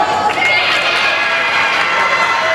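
A crowd at a Fordham versus Iona water polo game cheers a goal, a dense, loud, sustained roar of shouting and cheering from a large indoor crowd.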